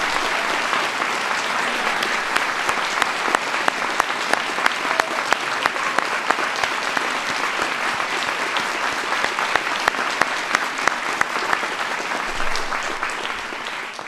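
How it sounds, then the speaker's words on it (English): A large audience applauds at a White House ceremony honoring the National Teacher of the Year, dense, steady clapping sustained loudly for the whole stretch. "So give Rebecca a big round of applause"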